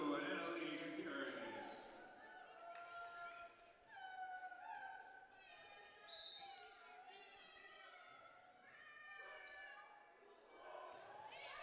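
Players on the Johnson County bench at a junior varsity college volleyball match imitate cat meows with rising and falling drawn-out voices during a serve, layered over crowd noise and a commentator talking.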